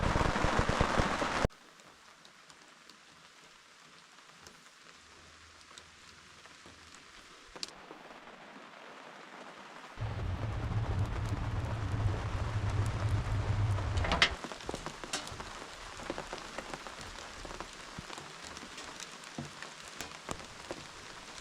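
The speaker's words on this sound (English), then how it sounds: "it's raining pretty good still" Steady rain falls outdoors at an off-grid woodshed build site in Alaska, a broad hiss that drops and swells between sections, with a few sharp knocks and a louder stretch midway, no speech.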